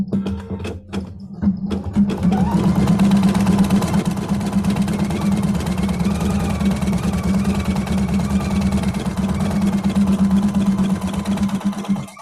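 An embroidery machine stitching a placement line on background fabric, a rapid steady mechanical hum and needle chatter running continuously after a brief start, close and fairly loud, with no talking.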